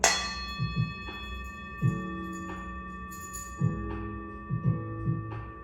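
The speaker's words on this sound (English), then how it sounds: "You gonna hear a loud bell." A bell rings with a sustained, shimmering tone that slowly fades while several soft, low knocks and strikes sound beneath it.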